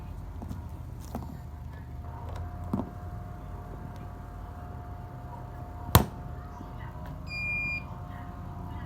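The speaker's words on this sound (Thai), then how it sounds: "เสียบไฟบ้านปุ๊บเครื่องก็จะดังตีดขึ้นมานะครับ" A FOXSUR 122412D car battery charger gives one short electronic beep as it powers up from mains, after a sharp click, over a faint steady hum.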